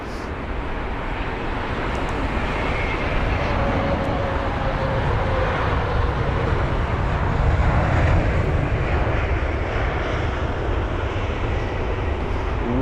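A Virgin Boeing 787 landing at London Heathrow gives a steady, moderately distant jet rumble with a faint whine. The sound slowly rises and falls over the whole stretch.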